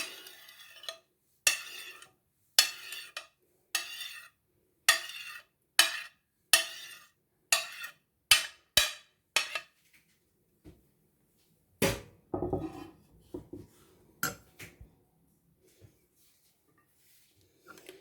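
Vegetable raita being mixed with tomato, onion and green chilli produces a rhythmic series of close spoon scrapes and clicks against a bowl, about a dozen regular strokes, then sparser, irregular knocks and a brief rustle.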